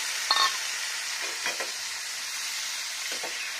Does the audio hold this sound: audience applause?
no